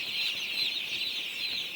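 Dense, continuous high peeping of many day-old broiler chicks crowded in a gas-heated brooding shed, a close, steady chorus with no voices.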